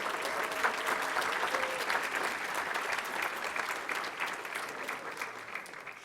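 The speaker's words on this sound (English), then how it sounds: "Let's give all of our teachers another round of applause." A school board meeting audience claps for the district's teachers, a full, dense round of applause from a roomful of people, steady and even from start to finish with no talking over it.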